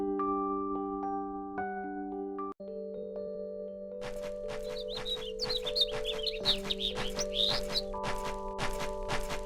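A migratory bird chirps in Star Ocean 3: Till the End of Time, a rapid run of bright twittering notes that comes in midway over sustained game music and a soft background bed.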